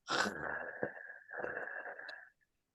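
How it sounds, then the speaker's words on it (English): A slow, breathy exhale with a throaty rasp, steady for about two seconds, then a brief pause and a second long raspy breath out, close up. "you exhale through the mouth, and it sounds like this."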